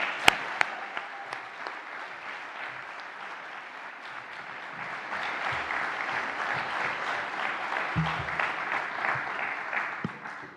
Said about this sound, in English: Please give Martha a round of applause.